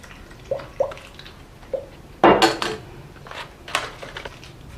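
Water drains from a houseplant pot into a bottom-watering bowl, with scattered drips and trickles and a louder splashing gurgle near the middle, heard close and quiet.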